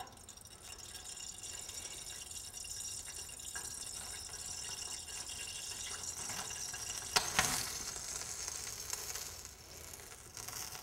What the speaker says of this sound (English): We light ethanol shield on fire.